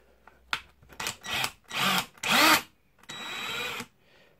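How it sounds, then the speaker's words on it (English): A cordless half-inch impact wrench on a 1.3 amp-hour battery fires in about five short, close bursts with brief pauses between them. "half inch impact wrench,"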